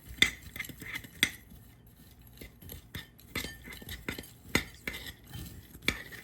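Brown sugar, nuts and ground cinnamon for a crunch coffee cake topping are stirred in a bowl, with scattered clinks and scrapes of a utensil against the dish at an irregular pace, close and fairly quiet.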